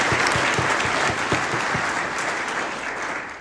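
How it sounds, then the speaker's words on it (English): Audience applause for Kobe Bryant at a physician retreat, a dense, steady wash of clapping from a large crowd, loud and close, a few sharper individual claps in the first seconds, easing slightly toward the end. "can we clap for Kobe?"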